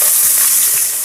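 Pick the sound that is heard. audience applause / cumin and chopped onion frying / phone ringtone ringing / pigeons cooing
cumin and chopped onion frying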